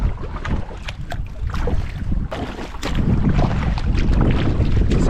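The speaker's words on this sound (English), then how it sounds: "Just coming into this headwind on Hobart Lake." Headwind buffets a canoe on Hobart Lake, a loud roaring gusty rush of wind noise across the microphone with water sloshing underneath, steady and close throughout.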